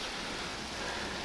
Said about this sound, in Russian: О, хорошо, дождь сейчас смочит.